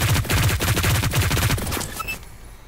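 A heavy machine gun fires a long rapid burst in the battle royale video game Hyperscape, loud and close, then cuts off abruptly into brief quiet with faint game effects.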